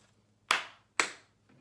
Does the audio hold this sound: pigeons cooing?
no